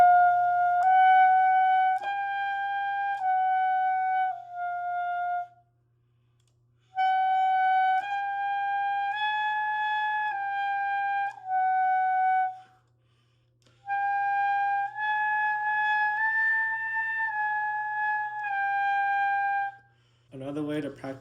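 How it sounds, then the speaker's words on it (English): Saxophone played double-lipped as altissimo practice, climbing chromatically in three-note groups; three solo phrases of clear, sustained notes stepping upward, separated by short pauses. "One exercise I like to do double lipped is going up chromatically in three note intervals."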